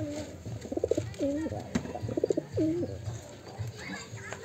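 Pigeons being fed coo in several close, throaty bursts, with short pauses between them and faint outdoor background noise.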